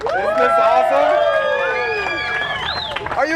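Large crowd in Sunbury cheering and whooping to welcome a rider arriving at the end of a long day of riding, a loud, sustained roar of voices with shouts rising above it.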